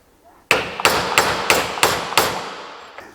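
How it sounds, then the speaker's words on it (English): Six loud metallic hammer blows on a stuck vehicle hub ring out at a steady pace after a brief quiet start, each strike clanging and decaying into the next. "hammer down to try to get that off"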